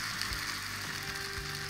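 An arepa cruceña frying in a pan gives a steady, close sizzle with a faint crackle that holds evenly throughout, with no voices.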